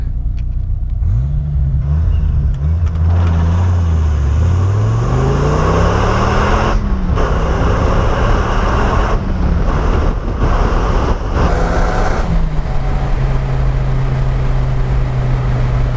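A Dodge Viper RT10 launches hard and accelerates, its engine note sweeping upward through several gears with short dips at each shift, loud and close over heavy wind and road roar, then settling into a steady cruise drone.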